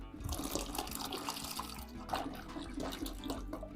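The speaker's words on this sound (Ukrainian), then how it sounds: "До окропу додаю соду, перемішую і вливаю в тісто" Boiling water mixed with baking soda is poured into thin pancake batter in a kitchen, a faint steady trickling and splashing of liquid with soft sloshing throughout.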